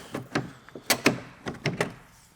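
Plastic interior door trim on a Mercedes E55 AMG being slid and worked loose, a series of sharp clicks and knocks in uneven bursts, close and fairly loud against a quiet background.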